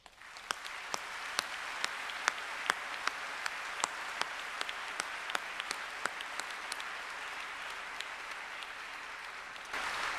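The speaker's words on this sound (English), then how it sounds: "show them your appreciation by a round of applause." Faint, steady applause from a graduation ceremony audience, a soft even wash of clapping with occasional sharper individual claps standing out, continuing for about ten seconds without talk.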